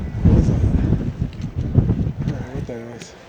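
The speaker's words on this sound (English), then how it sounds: "Yeah. Super windy." Strong wind gusts on Quandary Peak, a high mountain summit, buffet the microphone in a loud, roaring rush. A voice speaks briefly over the blustery noise.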